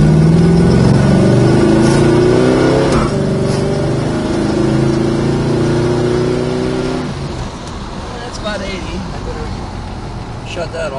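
A 1970 Plymouth Superbird with a 440 V8 revs up hard, its rising harmonic whine climbing loudly before dropping back to a steady idle rumble outdoors, with faint background noise.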